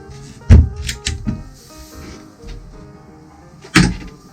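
A cupboard door aboard a Beneteau Oceanis 41.1 sailboat at a boat show is handled, giving several close wooden thunks and clicks separated by quiet pauses.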